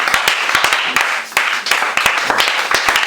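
A church congregation stands and claps to acclaim God, fairly loud and close, with steady rhythmic hand claps and faint voices underneath.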